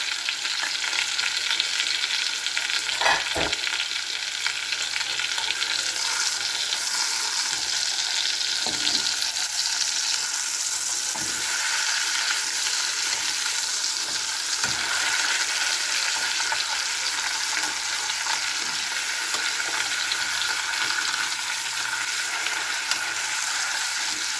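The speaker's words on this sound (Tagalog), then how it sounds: "Itakpan ko po siya at i-fried natin." Pork chops fry in a covered pan, a dense, even sizzle and crackle holding steady for over twenty seconds, with a few faint knocks and pops along the way.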